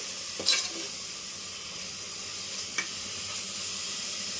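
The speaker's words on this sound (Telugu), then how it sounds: "మసాలా వేసుకున్న తర్వాత కొంచెం కలుపుతూనే ఉండాలి, లేదంటే అడుగు అంటిపోతుంది." Masala being stirred and fried in a pan with oil and onions. A steady, close sizzle runs throughout, with a couple of brief scrapes of the spoon.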